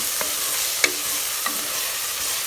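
Tomato, coriander and mint being sautéed in a pan for chicken biryani, a soft steady sizzle with a few light spoon-scrapes and clicks against the pan, close and fairly quiet, no talk.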